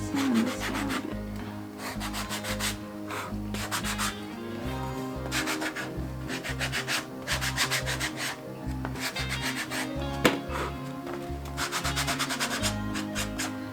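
Sandpaper rubs the edges of a chrome tan leather glasses case in short back-and-forth strokes, a soft, close, rhythmic scraping that comes in bursts with brief pauses between them, with no talk.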